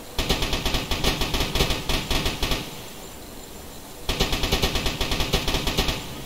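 A U-boat deck gun in the submarine game Uboat fires high explosive shells in steady rapid bursts, each sharp report evenly spaced, pausing for about a second and a half before resuming at the same pace.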